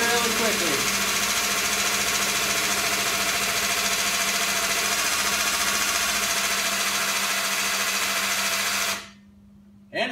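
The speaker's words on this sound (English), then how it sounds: "Oil transfer pump. Filling this jug really quickly." A homemade oil transfer pump built from a small-block Chevy oil pump drones steadily and loudly while filling a jug, a constant motor whine and hum that cuts off abruptly near the end.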